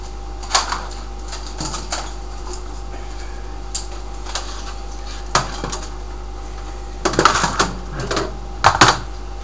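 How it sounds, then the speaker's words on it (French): Computer keyboard keys being tapped during a PC build, appearing as scattered sharp clicks with short clustered bursts of quick keystrokes, fairly close and alone over a steady low hum. "un clavier."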